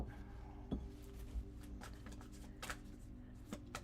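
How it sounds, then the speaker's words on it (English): Tarot cards being shuffled close by, a steady papery riffle with a few sharper clicks, over a low background hum. "I'm just going to wait a minute and shuffle."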